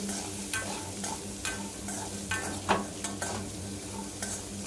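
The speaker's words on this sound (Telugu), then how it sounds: "ఆనియన్స్ కొద్దిగా మంచిగా ఫ్రై అయిన తర్వాత మనం టొమాటో పీసెస్ యాడ్ చేయాలన్నమాట." Onions frying in a pan, a low steady sizzle with frequent stirring scrapes and light knocks, close and fairly quiet, no voices.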